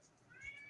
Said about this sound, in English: But I hear the cat.